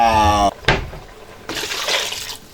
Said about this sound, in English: So I'm just going to add more water for that.